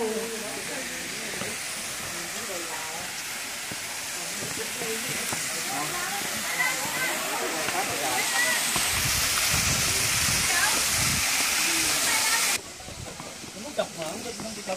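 Artificial waterfall at a scenic landscaped garden, a steady broad rushing hiss of falling water close by that swells slightly midway, with people chatting underneath.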